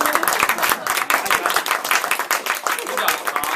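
An audience applauds with steady, dense clapping throughout, loud and close.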